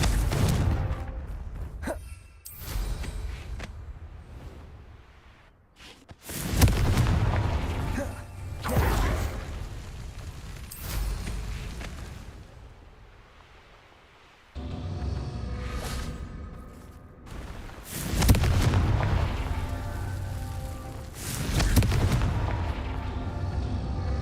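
Repeated fire-curse blasts from the wizarding game Hogwarts Legacy, several loud booming bursts spread across the stretch with rumbling decay between them, close and heavy.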